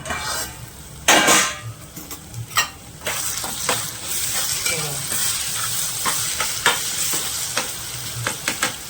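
Tomatoes tossed into a pan of frying vegetable curry and stirred, a steady close sizzle with repeated scraping of a spoon against the metal pan and a sharp clatter near the start, no talking.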